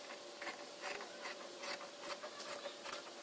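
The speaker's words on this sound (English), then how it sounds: "we're going to cut the center line." Scissors snip through fabric along a sleeve placket center line, a quiet, close series of rhythmic crisp cuts about every half second.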